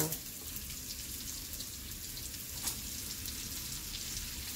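Cabbage chunks frying in a pan, a steady, dense hiss and crackle that holds at an even level throughout, close and fairly quiet with no clear voices.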